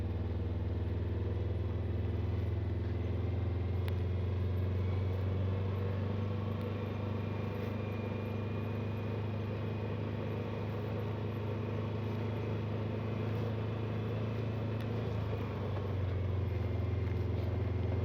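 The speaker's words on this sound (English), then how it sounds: "So I'm going to fire the gator up." A Gator utility vehicle's engine drones steadily as it drives out across snow-plowed land, a constant low hum that stays fairly quiet and even, with no voices over it.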